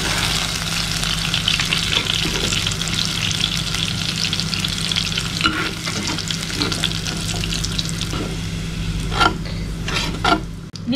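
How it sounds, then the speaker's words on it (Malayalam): Bitter gourd sautéing in coconut oil over a high flame, with a strong sustained sizzle and intermittent stirring clatter from a spatula against the pan, close up with no talk. "പാവയ്ക്ക് ഒരു 5 മിനിറ്റോളം ഹൈ ഫ്ലെയിമിലിട്ടിട്ട് നന്നായി വഴറ്റിയെടുത്തിട്ടുണ്ട്."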